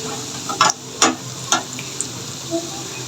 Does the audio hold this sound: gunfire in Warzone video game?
no